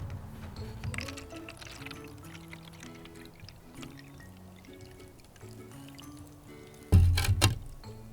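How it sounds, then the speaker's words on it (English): Water poured from a cup onto a sloped sand hill in a kids' erosion experiment: quiet low trickling through most of the clip, then a brief louder splashing pour near the end. "Let's add some more water."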